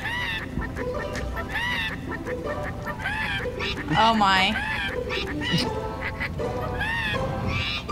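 Songbirds in the Skylanders Trap Team game sing badly, a run of off-key honking and quacking calls that sound like geese and ducks, with a voice speaking briefly during the calls.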